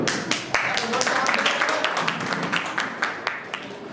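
An audience in a training session claps hands, a dense run of overlapping claps near and steady throughout, with some talk mixed underneath.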